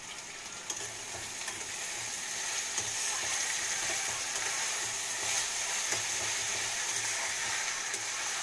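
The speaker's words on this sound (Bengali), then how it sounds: "একটু চিকেনটা ভাজা ভাজা হবে" Chicken pieces fry in a pan for chilli chicken, a steady moderate sizzle with faint low bubbling pulses, close and continuous with no voices.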